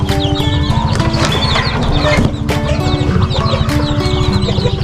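Young chickens in a brooding pen keep up continuous clucking and cheeping, many birds overlapping at close range in a busy, unbroken flock chatter.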